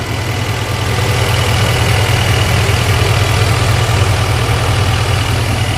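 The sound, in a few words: Chevy Silverado 2500HD diesel engine idling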